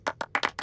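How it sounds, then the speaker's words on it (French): Five quick, sharp hand claps in rapid succession, close and fairly loud, with no voices in between. "Un tonnerre d'applaudissements pour tout le monde."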